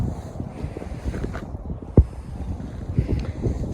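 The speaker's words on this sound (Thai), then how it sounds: "เพราะว่ามันมีลมพี่น้อย ลมพัด" Wind blowing outdoors beside a river in Russia, buffeting the microphone with low, gusty rumbles and a sharp thump midway, steady and close with no speech.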